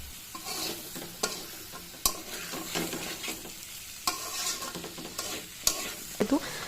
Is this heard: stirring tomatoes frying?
yes